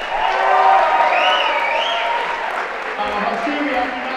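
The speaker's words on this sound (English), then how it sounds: "can we give them another round of applause?" An audience at a magician's stage show claps and cheers for children brought back onstage, with whoops and raised voices riding over the clapping, which stays fairly loud and then eases slightly.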